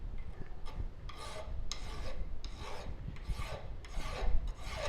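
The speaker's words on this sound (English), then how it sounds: "switch and start actually filing" Hand file rasping along a metal edge in a metal shop, worked in a rotational motion: about eight steady, evenly spaced strokes, each a close, moderately loud scraping rasp with brief pauses between, and no talking.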